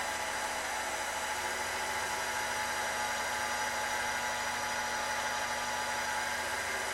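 A pasta roller on its widest setting laminating folded, sealed pasta dough, giving a steady, continuous mechanical whir at a constant close level for the whole stretch, with no talk.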